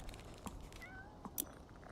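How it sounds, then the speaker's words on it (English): Cats meowing indoors, a few short, faint meows spread over two seconds with one slightly louder call near the end, against a quiet background. "Why do I hear cats?"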